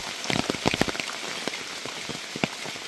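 Heavy evening rainfall in Kotaluk, a Konkan village near Guhagar, gives a dense hiss with irregular, closely spaced drop patters striking a nearby surface.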